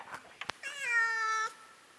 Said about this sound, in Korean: 길냥이 한 마리가 가게에 들어왔습니다.